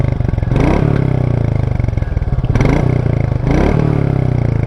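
A 2022 Royal Enfield Meteor 350 engine runs steadily up close, a loud, even, low thumping idle with slight rises in revs and some mechanical clatter, no voices.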